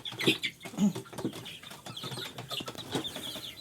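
Chicks peck and cheep while competing for food in the morning, with quick scratchy tapping and small clucks close by and no talking.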